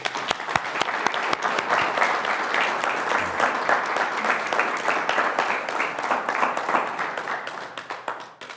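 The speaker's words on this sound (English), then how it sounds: "I'd ask you all to join me in a round of applause for Eric and our founding board members." An audience at a nonprofit's annual state-of-the-organization address gives a sustained round of applause, with dense clapping filling the room for several seconds before it tapers off at the end.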